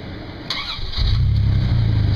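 Dodge Dakota pickup engine cranks briefly with a click, then catches and settles into a loud, steady low idle rumble, heard close up without talking.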